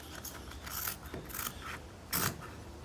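Scissors snipping through a Clonmel gazebo side panel cover, several short crisp cuts spaced irregularly, heard up close with no talking.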